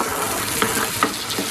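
Masala sizzling in oil as it is stir-fried for mutton karahi, a steady frying hiss with soft scraping stirs at intervals, close and alone with no talk.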